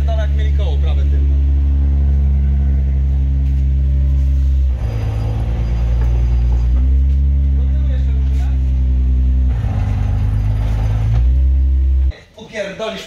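A car with a limited-slip differential in a garage drones loudly as its right rear wheel spins with the clutch released. The strong engine tone shifts pitch a few times, then cuts off near the end.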